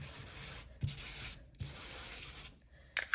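Ink is rubbed onto paper with a blending tool while a die-cut card is colored, making soft, close scrubbing strokes in several sweeps broken by brief pauses, ending with a couple of light taps.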